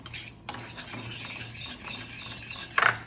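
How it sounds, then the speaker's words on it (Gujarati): Pearl millet (bajra) flour roasting in a spoonful of hot ghee over a medium flame, a utensil scraping and stirring through it steadily with a soft sizzle underneath and a sharper clink near the end. "મીડિયમ ગેસે લોટ શેકવાનો છે."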